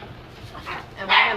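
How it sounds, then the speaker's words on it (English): Small dogs bark and yip in a short burst, rising louder at the end, while a person speaks briefly. "excuse the dogs. They're barking again."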